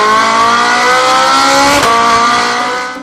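Ferrari F8 V8 engine revving, a loud, dense exhaust roar held steady with a brief sharp blip midway and fading slightly at the end, close and continuous without voices.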